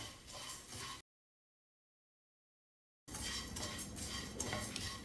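Flattened rice (aval) roasts in a pan over low to medium flame, with a spoon scraping and clinking against the metal in steady stirring, close and clear. The sound drops out completely for two seconds in the middle.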